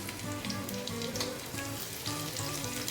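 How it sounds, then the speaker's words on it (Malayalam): Onion and dried red chillies frying in hot oil for a Kerala tapioca and beef dish, a dense, continuous sizzle that stays loud and close for the whole stretch with no voices. "നമ്മുടെ എണ്ണ ചൂടായിട്ടുണ്ട്. അതിനകത്തേക്ക് നമുക്ക് ഉള്ളി ഇട്ട് കൊടുക്കാം."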